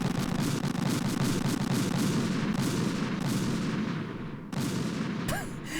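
Gunfire from Metal Gear Solid 2 on the tanker chapter, where a USP pistol is in use, roars as a loud, dense barrage of overlapping blasts, ending in a sudden cut and a brief final burst.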